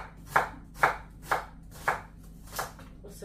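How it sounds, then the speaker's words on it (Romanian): A knife chops an onion on a cutting board in a home kitchen, five distinct, evenly spaced sharp thuds close by, with no talking. "O să tai eu ceapa asta."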